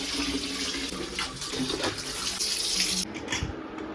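Water splashes and trickles in a basin as new clothes are lifted out of soaking water, a close, busy sloshing with brief drips and a sharp clatter near the end.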